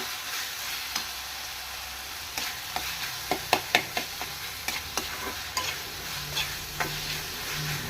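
Tomato with salt and turmeric frying in a pan for avarekai gojju, a faint sizzle beneath a run of light spoon taps and scrapes against the pan, close and without speech.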